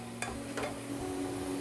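Sliced onions with a little salt sizzle in oil inside a pressure cooker while being stirred, with a couple of sharp scraping strokes over the steady frying hiss.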